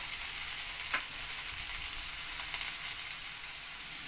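Hincha greens fry in a pan with salt, turmeric and ginger paste, giving a steady, soft sizzle with a few faint scrapes and clicks as they are stirred, with no voices.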